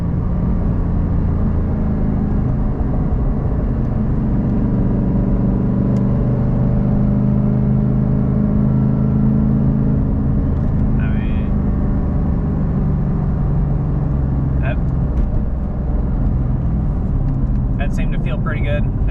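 A Ford Mustang S550 drives over ramps, its engine a steady low rumble with road noise, heard from inside the car, and someone talks over it throughout.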